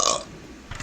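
A single loud, giant burp erupts at the start and fades quickly, followed by brief quieter low sounds.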